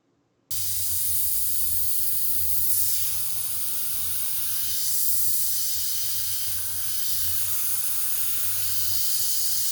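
An airbrush sprays paint with a soft, steady hiss, accompanied by a faint low hum that pulses gently in the background.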